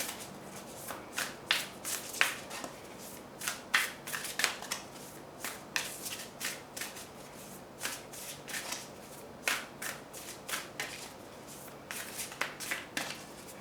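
A tarot deck is shuffled over and over, giving quiet, crisp riffling flicks in an uneven rhythm with short pauses between bursts, close by and alone.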